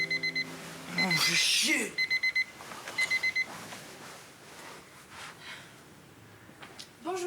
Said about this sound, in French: pourquoi t'éteins pas ton réveil, là?